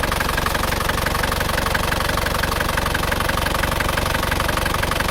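An Isuzu Panther diesel engine that has only just been started idles with a rapid, even knocking clatter, close and loud, with no voices.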